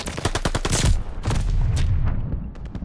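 Rapid bursts of automatic gunfire at a hardpoint in Call of Duty Vanguard, a close, loud string of sharp shots followed by a second sustained burst, with booming low-end weight and no talking.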